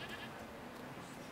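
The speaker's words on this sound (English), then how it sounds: "Hello, goats." Goats bleat faintly in the game The Thaumaturge, one soft, drawn-out call set low within a dense ambient background, with no talking over it.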